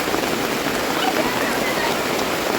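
Rain falls steadily on a village yard, a dense even hiss of drops that holds without a break, close and fairly loud.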